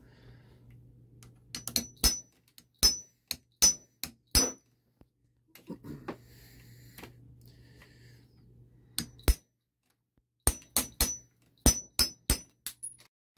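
Repeated sharp metal-on-metal hammer strikes driving a pin out of a PPS-43C part in irregular bursts, loud and close, with a low machine hum between some blows.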